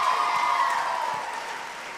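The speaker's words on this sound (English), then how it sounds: "one more round of applause for Voltage" Audience at a high school choir spring showcase applauding an act, a steady wash of clapping that stays fairly even and fades slightly toward the end, with a sustained tone running underneath.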